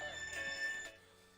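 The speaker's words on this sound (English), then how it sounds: "No, it's my fucking alarm to go to bed." A phone alarm rings with a steady electronic tone, loud and close for just under a second before it cuts off and leaves a faint residual hum.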